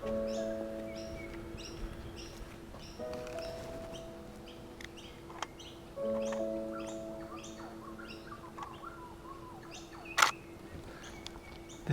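Small wild birds chirp in short repeated bursts, close and fairly faint, against a quiet outdoor background with steady tonal hums underneath and one sharp louder call near the end.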